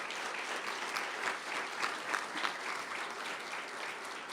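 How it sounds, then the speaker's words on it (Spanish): Quiet, distant-sounding applause from the audience at a book presentation, an even patter of clapping with a few sharper claps standing out. "Y los recibimos con un fuerte aplauso"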